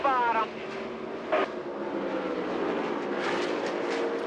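IndyCar race cars at New Hampshire in 1998, a steady high-pitched engine roar as cars pass, loud and continuous, with a brief rising whine near the start and commentators talking over it.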